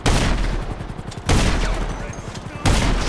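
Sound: gunfire from video game GTA Online

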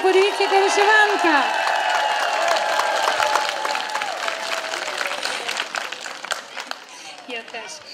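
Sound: applause

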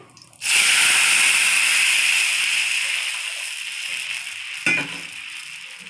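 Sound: pouring jaggery tamarind soup into hot tempering pan, sizzling

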